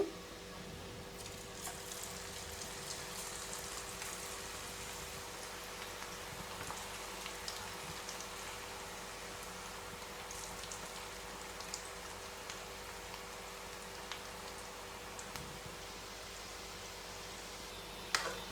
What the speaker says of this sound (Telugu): మళ్ళీ ఆయిల్లోకి మళ్ళీ పకోడీలని వేసుకుందామండి